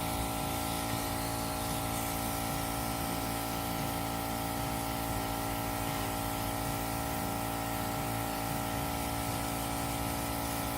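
An airbrush sprays paint colour in a steady, close, continuous hiss onto a fondant Sorting Hat cake, with faint motor hum beneath and no talking.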